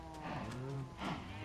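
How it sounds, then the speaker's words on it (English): A cow in the video game Minecraft moos twice, a drawn-out low call followed by a shorter second moo, close and clear with no talking. "oh, the cows actually look like cows."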